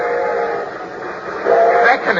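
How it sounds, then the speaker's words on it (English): Steam train drawing nearer as an old-time radio drama effect, a steady rumbling roll with a wailing whistle swelling toward the end, loud and close. "The train was coming closer. I could hear its bell. Heard cries, whistle crying."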